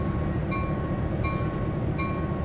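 Train crawling slowly in a train simulator game toward a failed train, a steady rumbling drone with faint recurring clanks and squeals, constant and fairly close, no voices.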